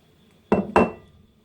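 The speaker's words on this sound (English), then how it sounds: "Next thing is to transfer this into my oven tray." Plantain sauce being moved into an oven tray gives two quick, close clanks of a pan or utensil against cookware, each ringing briefly before fading into near silence.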